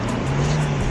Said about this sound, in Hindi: इधर गाड़ी चढ़ती नहीं है